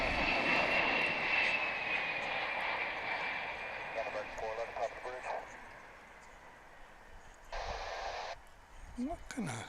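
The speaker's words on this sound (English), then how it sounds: "how about a Singapore Airlines cargo? Coming in from Anchorage" A Singapore Airlines cargo jet arriving from Anchorage into DFW International Airport, its engine roar heard from a distance as a broad steady rumble under loud nearby talk and wind buffeting.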